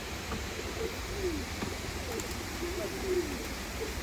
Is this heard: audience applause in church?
no